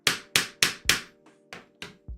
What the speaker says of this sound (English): Can I now use the hammer?